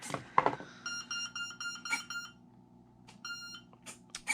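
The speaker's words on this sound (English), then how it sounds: "you heard the ESC count 6 beeps" A short series of electronic beeps at shifting pitches from an RC car's electronic speed controller, counting six beeps for a 6-cell battery, with a brief clatter at the start, fairly quiet and close, tones spaced irregularly.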